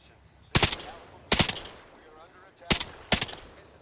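Four heavy subsonic rifle shots in the video game Arma Reforger, fired singly as a pair and then a closely spaced double, each sharp and loud with a short decaying tail over quiet background.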